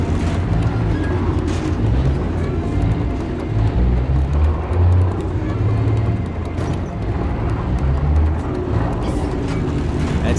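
A Churchill tank in Battlefield 5 rumbles along with a loud, steady low engine drone and clattering, mixed with distant battle noise and some talk throughout.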